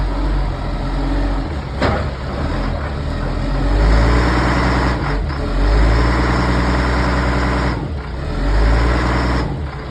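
An LMTV truck with no turbo, a fire-truck conversion, rumbles steadily along a road, its engine drone loud and continuous with a few brief shifts and bumps throughout.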